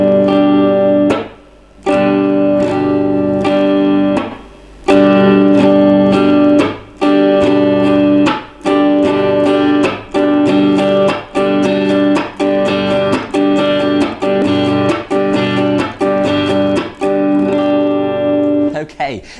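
Acoustic-style blues guitar repeats a down, up, chop, up strumming pattern, the muted chop giving short percussive breaks between ringing chords, steady and close.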